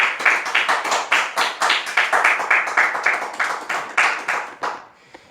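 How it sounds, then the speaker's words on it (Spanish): A church congregation claps in a quick rhythmic pattern, close and fairly loud, the beats steady for several seconds before tapering off and stopping near the end. "Dale un aplauso."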